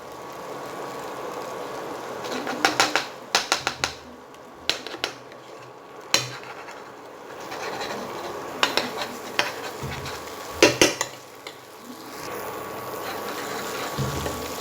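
A spatula stirs butter through tawa pulao on a pan, making repeated sharp clattering scrapes in quick bursts over a low background sizzle, with quieter pauses between rounds.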